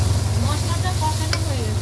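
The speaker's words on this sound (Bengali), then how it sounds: "মশলাটা ভালো করে কষে নেব।" Spice paste (masala) fries in a pan with a steady, dense sizzle that stays level throughout, and a single brief scrape or stir sounds near the middle.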